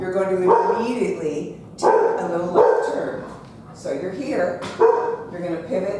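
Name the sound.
puppy dog barking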